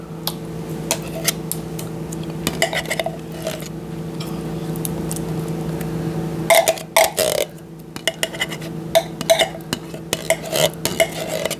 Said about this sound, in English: so we're going to stir this together